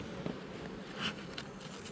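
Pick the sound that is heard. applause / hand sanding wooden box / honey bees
honey bees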